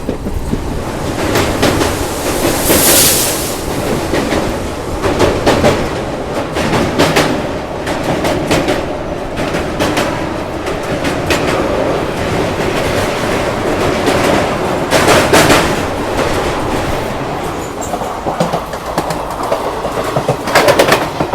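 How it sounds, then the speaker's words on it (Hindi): The Bandra–Jodhpur Suryanagri Express, a passenger train, runs along the tracks, filling about twenty seconds with a steady rumbling roar and repeated rhythmic clickety-clack wheel beats, heard close and loud with no voices. "तो दोस्तों यहाँ अपनी ट्रेन पार कर रही है"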